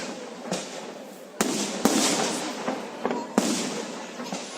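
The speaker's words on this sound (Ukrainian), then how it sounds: "Говори, какого цвета салюты?" A Komi Republic Day fireworks display, August 2017: several sharp booming bursts arrive at irregular intervals, each followed by a lingering crackle and wash of noise, heard from a moderate distance.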